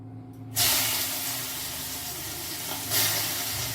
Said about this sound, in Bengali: ওইটা গরম হয়ে গেছে, আমি ওইটার মধ্যে চিংড়ি মাছটা ভাজা বসিয়ে দিই।